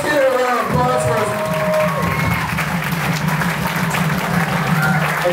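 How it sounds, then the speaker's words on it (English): A crowd at an elementary school 80s rock show breaks into loud, sustained applause with some cheering, a dense wash of clapping that fills the space while a voice carries over the start. "let's get a round of applause for us"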